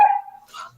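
A miniature schnauzer gives one sharp, close bark, followed by a fainter yip.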